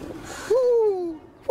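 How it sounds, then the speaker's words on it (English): An owl hoots once during a boat ride on a river: a single drawn-out, falling hoo that is fairly close and clear, with nobody talking over it. "The owl goes hoo, hoo."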